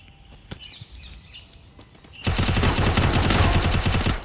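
Rapid bursts of automatic gunfire in the Free Fire battle game erupt suddenly after a quieter stretch of scattered shots and chirps, staying loud and dense through the second half with headshot kills.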